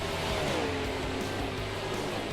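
A race car engine in a NASCAR video game roars loud and continuous, pitch wavering as it revs through the gears, with no voices.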